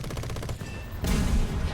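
An aircraft gunner fires in the air-combat game War Thunder aboard a Havoc Mk I. It sounds as a rapid, rattling burst of gunfire, then a heavier, louder rumble of shots, close and without talk.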